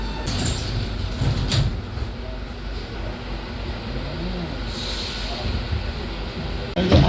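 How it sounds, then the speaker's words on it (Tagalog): Steady low rumble inside a moving train in Barcelona, Spain, with rattles and a brief mechanical whine, plus scattered voices; a louder clunk near the end. "nandito pa tayo sa loob ng tren."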